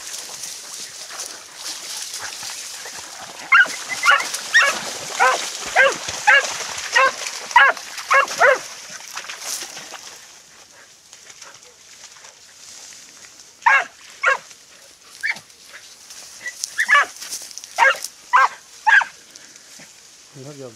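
A Podenco Orito Español hunting dog barks while working through brambles outdoors, letting out two rhythmic bursts of sharp, repeated barks separated by a quieter stretch.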